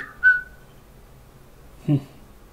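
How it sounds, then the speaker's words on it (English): A Samsung Note phone gives its whistle notification: a quick rising-then-falling whistle near the start, then a low thump a moment later, both short and close in an otherwise quiet room. "my phone just whistled at me."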